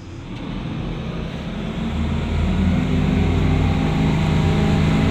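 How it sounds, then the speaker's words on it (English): A 2012 Outlaw 10.7 m catamaran runs at cruise on twin 350 hp V8 Yamaha four-stroke outboards, giving a steady, loud, close engine drone that builds slightly and then holds even, with no talk over it. "350 horsepower Yamaha four-stroke outboards. I love that note"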